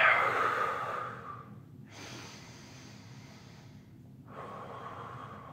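Three deep breaths during a yoga sequence, heard close up as a long loud exhale followed by two slower, softer breaths with short pauses between.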